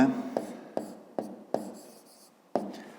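Pen or chalk writing segment letter names by hand on paper or a board, several crisp tapping strokes at steady intervals with short scratchy trails after each.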